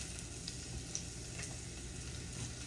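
Chopped garlic and white onion fry in a pan, making a quiet, even sizzle with a faint stir or two and no voices.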